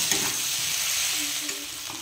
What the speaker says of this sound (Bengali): একটু দিয়ে 2 মিনিট নেড়ে চেড়ে তারপরে জল দিয়ে দেবো।